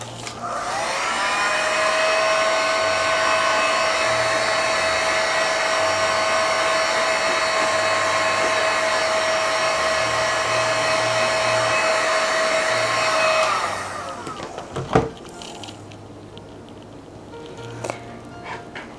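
A heat gun blows hot air in a steady, loud, high whine with a breathy rush for about fourteen seconds, then cuts off, followed by a few clunks and quiet handling sounds.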